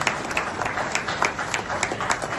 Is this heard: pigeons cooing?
no